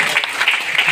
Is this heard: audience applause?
yes